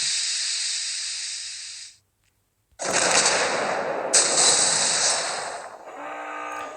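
Loud, sustained hiss of a smoke screen deploying from the Chinese cruiser Chunking in World of Warships Blitz, cut off by a brief silence, then resuming strongly amid faint game sounds.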